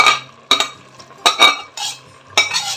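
Pieces of mutton are stirred into boiling rice in a pot for biryani, giving close, loud metal-on-metal scrapes and clinks in a handful of separate strokes, with a soft simmer between them.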